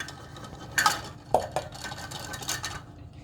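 Shaving cream is added into a bowl while making slime, with a few light clinks and scrapes of a utensil against the bowl over soft background noise.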